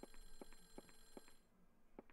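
Telephone ringing in a house in Clock Tower: The First Fear, a faint electronic ring repeating in short evenly spaced bursts, alone.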